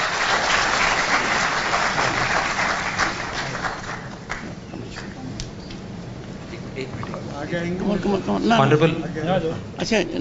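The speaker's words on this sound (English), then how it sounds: "with a huge round of applause" Applause rises from the audience at a university convocation ceremony for the chief guest, strong at first and then thinning, with a voice speaking over it later.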